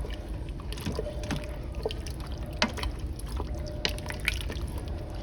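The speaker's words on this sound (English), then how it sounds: "Alright, give that a good stir." Red kidney beans and sausage are stirred in an Instant Pot, a steady wet sloshing with soft scraping and occasional faint clicks of the spoon against the metal pot.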